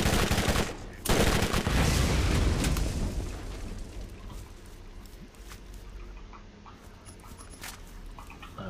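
Dense bursts of gunfire with booming impacts in the video game Borderlands, loud at first and then thinning into scattered shots over a low rumble.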